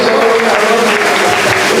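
Congregation at a French church sermon clapping for the Lord, dense steady applause filling the whole moment, loud and close with a faint murmur of voices underneath.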